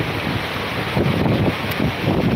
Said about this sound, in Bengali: আর এই মুহূর্তে আমি আর বারান্দায় থাকতে পারছি না, প্রচণ্ড বৃষ্টি